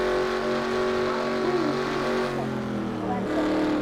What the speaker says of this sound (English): Here's the first crash.